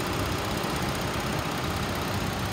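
A 2014 Ford Explorer engine idles smoothly with a steady, even rumble and no revving, close and unbroken, with no voices.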